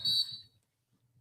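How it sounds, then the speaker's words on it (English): A shrill whistle blast cued as a sound effect on a talk podcast, loud and brief, lasting about half a second before dropping to near silence. "Let's get the whistles blowing and the music"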